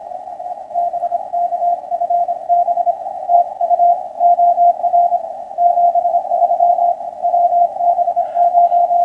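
A steady, warbling RTTY amateur radio data tone keys on and off rapidly in an even rhythm, continuous and fairly loud with faint static beneath.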